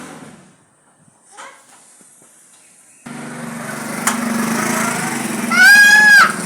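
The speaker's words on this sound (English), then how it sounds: "I'm sure you can hear the motorcycle." A small engine starts up partway through and then runs with a steady buzzing drone at close range. It rises louder near the end, where a rising whine sweeps over the top.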